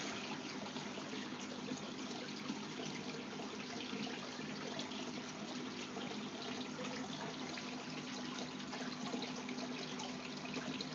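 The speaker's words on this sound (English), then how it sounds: "As you can see, the sump system is taking the scum off." A running aquarium sump system gives a constant wash of trickling, flowing water at moderate volume, skimming scum off the surface, steady and unbroken throughout with no voices.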